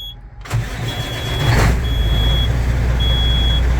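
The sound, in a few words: semi truck engine starting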